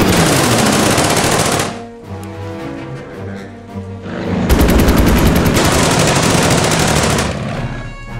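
Machine gun fire from the World War II strategy game Order of Battle WW2: loud, dense bursts of automatic gunfire that fill the opening seconds, a brief lull with ringing tail, then a second long sustained burst to the end.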